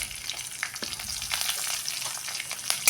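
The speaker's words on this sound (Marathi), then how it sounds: "आता फोडणीमध्ये जाणार आहे ही हिरवी मिरची." Green chilli crackles and sizzles as it drops into hot tempering oil already holding cumin and asafoetida, for lemon rice; a close, steady frying hiss with sharp pops, no talking.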